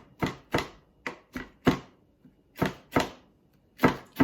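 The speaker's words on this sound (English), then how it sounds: "So I'm just gonna chop some, and yeah, there's gonna be some stems, but whatever." Herbs with their stems chopped with a knife on a cutting board, a series of about ten crisp, close knocks in an uneven rhythm with short pauses between.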